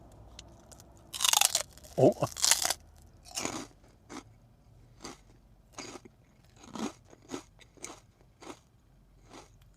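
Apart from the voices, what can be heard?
crunching and chewing pork rinds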